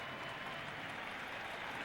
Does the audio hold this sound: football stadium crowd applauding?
yes